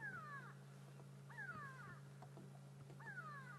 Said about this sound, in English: the go-away birds alarm calling